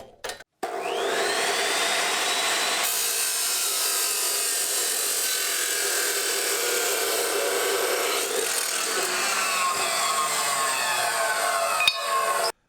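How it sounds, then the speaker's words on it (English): A cutoff saw slicing through deck bench seat boards on a floor, a loud continuous abrasive whine and grinding roar that holds steady for about eleven seconds, with the pitch shifting slightly as the blade works through the wood. "cutoff saw, and I can actually get a pretty good angle on it."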